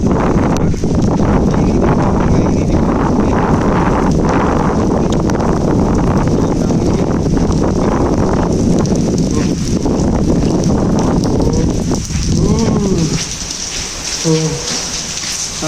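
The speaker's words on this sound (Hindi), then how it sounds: "बारिश इतनी तेज़ हो रही है" Heavy rain pours down loudly and steadily, mixed with wind buffeting the microphone, and a voice is briefly heard near the end.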